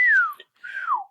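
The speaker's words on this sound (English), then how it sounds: "Apparently I started sucking at whistling at some point." A person whistles a short tune, two clear descending notes that wobble and break off, the attempt sounding uneven and failed, loud and close with a brief gap between them.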